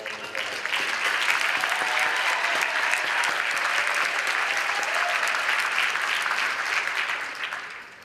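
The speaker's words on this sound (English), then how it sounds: "Let's give them a round of applause." Loud, sustained audience applause for a Leadership Council at a Main Street Now conference in 2023, dense clapping swelling quickly and holding for several seconds before tapering off.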